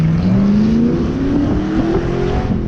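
A drag racing rail car accelerates hard down the track at a race week event, its engine note climbing steadily in pitch under loud wind buffeting, continuous and close for the whole stretch.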